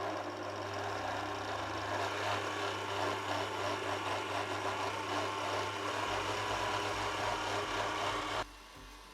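An electric mixer churns buttercream and icing on a slow setting, a steady close motor drone with a rhythmic whir that runs unbroken before cutting down near the end.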